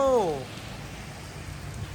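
Rain falls during a car sound-system installation in Surin province, Thailand, a steady soft hiss that continues after a short voice at the start.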